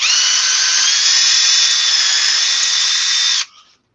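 A power drill whirs loudly at a steady high pitch for several seconds, then winds down and stops.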